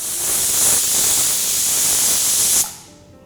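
Steam hisses loudly and steadily from a pressure cooker releasing pressure after cooking meat for Rarra Gosht, a harsh continuous jet of spray that cuts off abruptly after about two and a half seconds, leaving quiet behind.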